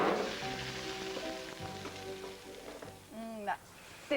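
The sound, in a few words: potatoes with olive oil and herbs sizzling in hot roasting tray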